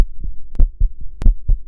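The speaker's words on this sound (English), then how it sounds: "a human heartbeat" Recorded human heartbeat, the kind chosen for the Voyager golden record: paired low thumps in a steady lub-dub rhythm, about two beats in under two seconds, close and clear with no talking.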